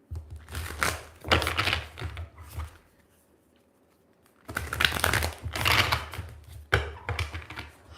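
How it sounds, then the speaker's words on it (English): Oracle cards being shuffled by hand: close, rapid papery riffling in several bursts, broken by a quiet pause of a second or so before the shuffling resumes. "I'm going to start shuffling."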